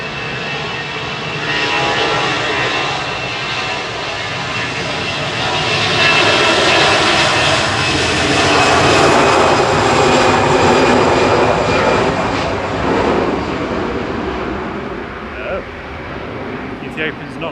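Ethiopian Airlines jet airliner at Manchester Airport, its engines a loud, broad sustained roar that swells and fades over several seconds as the aircraft passes nearby, with people talking throughout.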